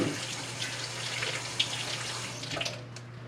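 Tap water runs steadily into a sink while hands are washed after handling poultry, a continuous close splashing rush with small bursts as hands move through the stream.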